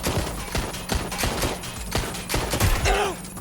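Rapid gunfire bursts in Watch Dogs Legion, a run of sharp, loud shots in uneven clusters, with a short whining game sound near the end.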